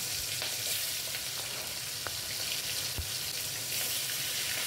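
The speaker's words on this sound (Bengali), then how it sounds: "তেল গরম হলে তাতে ওই মাছের টুকরোগুলো ভাজতে দিয়ে দিলাম।" Steady crackling sizzle of fish pieces frying in hot mustard oil, dense and continuous with a few sharper pops, close up and no talking.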